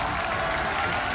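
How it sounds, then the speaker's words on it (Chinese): A studio audience applauds to welcome the judges onto the stage of a CCTV talent show, a dense, steady burst of clapping with no one talking. "让我们掌声欢迎评委江涛"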